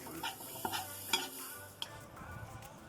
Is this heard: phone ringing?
no